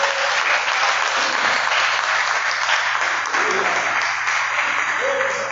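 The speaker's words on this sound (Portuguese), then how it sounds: "Você pode aplaudir a Jesus?" A church congregation claps steadily for Jesus during a sermon, a dense, continuous wash of many hands applauding at full volume for several seconds, with a faint low hum underneath and no voices standing out.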